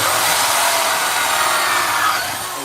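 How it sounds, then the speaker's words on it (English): A loud, close variable-speed drill with a hole saw grinding steadily through wood with a harsh rasping whine, easing slightly toward the end. "this drill is a variable drill"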